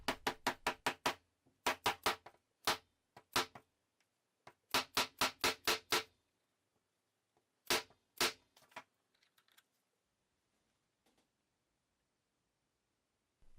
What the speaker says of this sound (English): tap it in with a hammer until it's completely seated